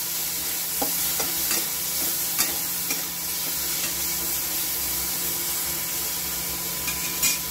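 Steady sizzling and crackling of chillies roasting in a very hot wok for dried mackerel chutney, with occasional scraping stir strokes and soft clicks; no talking.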